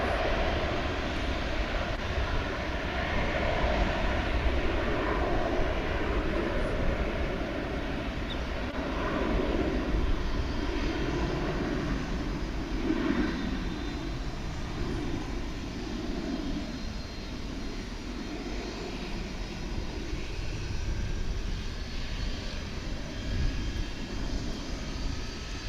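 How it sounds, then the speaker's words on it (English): An airplane, flight 5820 from El Paso, arrives at DFW International Airport with a broad, steady engine roar that swells gently and holds at a distance throughout. "flight coming in from El Paso, flight 5820"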